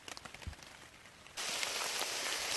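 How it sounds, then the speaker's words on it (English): Rain falling on a tarp at a hiking camp, with a few scattered drops at first, then a sudden shift to a steady dense patter that continues to the end. "Still raining."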